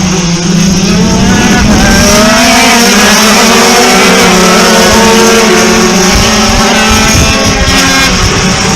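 Race cars at Donington circuit roar past nearby, a loud sustained engine drone with shifting pitch as several cars go by in close succession.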